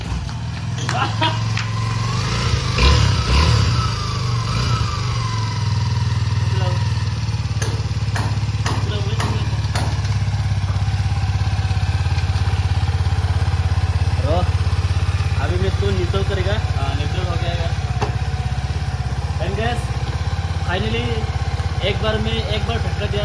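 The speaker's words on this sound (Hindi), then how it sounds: "और एक बार में पूरा बाइक स्टार्ट हो गया" Motorcycle engine, an AJS bike that had sat unused about a week, running after a push start in a village, a steady close idle with some thumps, while someone talks over it.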